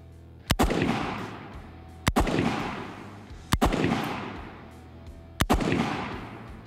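Gunshots fired from a seated shooting position at a range: four sharp, loud reports spaced roughly a second and a half apart, each followed by a short echoing decay outdoors.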